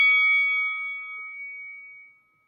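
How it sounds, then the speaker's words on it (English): A single strike on a ringing bell gives a bright metallic ding that decays slowly over about two seconds, clear and alone with no talk. "Then we'll hit the Rocky Bell."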